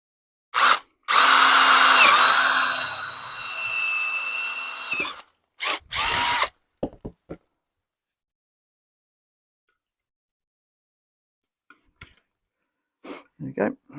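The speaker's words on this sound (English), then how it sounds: "I'm going to get these plastic supports drilled out to take" A battery power drill drills out plastic supports to take bolts during a VW T5 van solar install, giving one loud sustained whir of about four seconds, then short bursts and quiet gaps with a few faint knocks.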